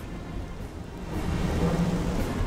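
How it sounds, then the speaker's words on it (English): Heavy rain hisses continuously in the video game Xenoblade Chronicles, with a low rumble of thunder building and swelling in the second half, no voices over it. "And this place is raining beyond belief."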